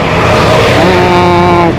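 A car climbs a steep hill road in Darjeeling near the Mall market, its engine loud and close, straining with rising tonal whine as it passes, no talking heard.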